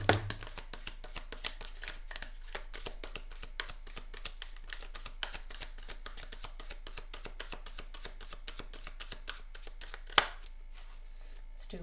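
Tarot cards are shuffled and riffled continuously during a Gemini tarot reading, a dense run of soft papery flicks and taps close by with a sharper snap near the end, and no talking.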